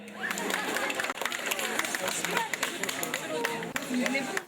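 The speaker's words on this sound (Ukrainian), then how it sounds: "Оплески!" A crowd at a folk crafts festival in Brody claps in a dense, lively burst of applause, with chatter and voices mixed in throughout.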